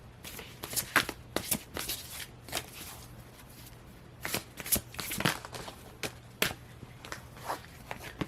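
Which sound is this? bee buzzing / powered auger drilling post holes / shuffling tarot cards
shuffling tarot cards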